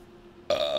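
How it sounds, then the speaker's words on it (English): A single short, loud, close burp that starts abruptly after a quiet moment and holds a buzzing, tonal rasp until it cuts off. "And I burp, excuse me."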